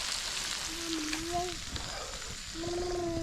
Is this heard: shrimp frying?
yes